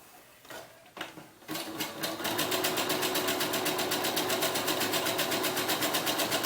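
A sewing machine stitches a buttonhole for a doll-hair bun maker, starting with a few slow hesitant stitches and then settling into a steady, rapid, even rhythm of needle strokes, close and clear with no talk.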